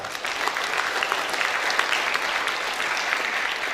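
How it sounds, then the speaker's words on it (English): Audience at a school science day breaking into steady, dense applause, many hands clapping continuously at an even level throughout with no voices standing out. "don't you think they deserve a big round of applause?"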